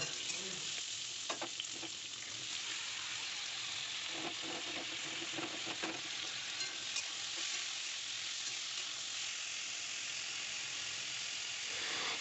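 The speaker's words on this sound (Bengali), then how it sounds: "এখানে করব যে গাজর আলু আর পেঁয়াজ দিয়ে ভাজা" Carrot, potato and onion fry in oil in a pan, a steady close sizzle with occasional scrapes of stirring, no voices.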